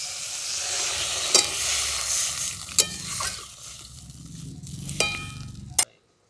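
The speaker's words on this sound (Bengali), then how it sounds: "এরপর এটাতে আমি জল ঢেলে দিচ্ছি।" Water goes into a pan of fried potatoes and tomatoes, a steady close sizzling hiss broken by a few sharp clinks before cutting off abruptly.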